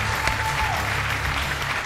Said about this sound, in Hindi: बहुत सारी तालियां होनी चाहिए समी के लिए।